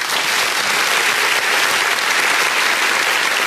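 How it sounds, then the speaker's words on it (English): A loud, dense burst of applause for a talk-show guest named Q, a full crowd clapping steadily without pause or speech. "Let's give Q an applause."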